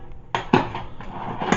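Inexpensive camping cook set pots and pan clanking together, several sharp metallic knocks and rattles in quick succession, close up and loud, with no talking.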